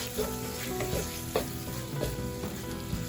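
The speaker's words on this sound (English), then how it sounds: "So now I'm adding some tomato here." Tomato fries in a spicy fish curry base, a dense constant sizzle with repeated stirring scrapes and soft knocks of a spoon in the pot, close and fairly loud.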